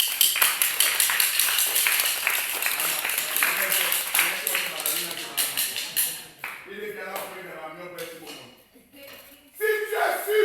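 A church congregation at a revival gathering claps in praise of the Lord, a dense run of rhythmic handclaps that thins out and breaks off, with a voice speaking over it.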